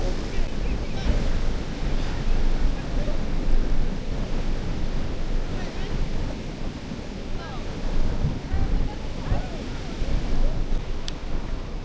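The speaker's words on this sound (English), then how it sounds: "Must be high tide given the way the waves break." Ocean waves breaking on a beach at high tide, rolling surf surges rising and falling under strong wind buffeting the microphone, loud and continuous.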